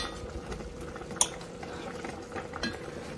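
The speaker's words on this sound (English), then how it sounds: "I'm just gonna melt that butter." Butter melts in a skillet, giving a faint, soft bubbling sizzle with one sharp metallic clink of a utensil against the pan partway through.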